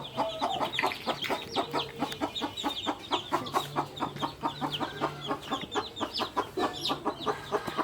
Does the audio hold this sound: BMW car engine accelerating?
no